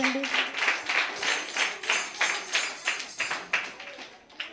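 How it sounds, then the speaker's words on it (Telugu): Children at a Sunday school Christmas program applaud for Sandeep, a steady run of light, close hand claps with a quick, even rhythm that gradually softens. "సందీప్కి చప్పట్లు కొట్టండి."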